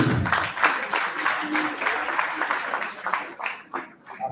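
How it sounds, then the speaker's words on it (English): A hall audience at a law week presentation claps after a talk, a fairly close, uneven patter of hands that thins toward the end, with some voices mixed in. "Another round of applause, please"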